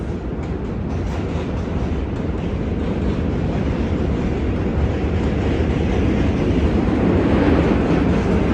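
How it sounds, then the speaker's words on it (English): A train rumbles across the Manhattan Bridge in Brooklyn, New York, at night, a loud, steady roar of rail noise with faint clickety-clack that holds for the whole stretch without any talk. "There's a look at the Manhattan Bridge with the train passing over it."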